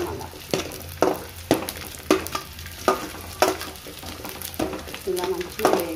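Cardamom and cinnamon stick roasting in a pan for a homemade multivitamin powder, heard as soft dry rattling and scraping, with regular stirring strokes roughly every half second and a faint voice in the background.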